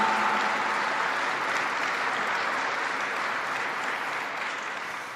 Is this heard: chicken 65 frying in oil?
no